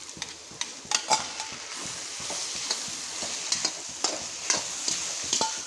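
Fried egg being stir-fried into egg fried rice in a pan, with repeated sharp spatula scrapes and clacks over a constant low sizzle, close and alone with no voices.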